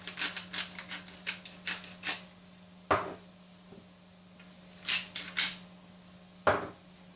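Quick crisp rasping clicks of salt and pepper being ground over a cooking frittata, two close runs of rapid grinder turns with a couple of louder knocks between them.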